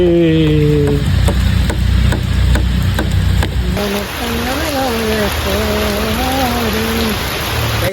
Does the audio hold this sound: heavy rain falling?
yes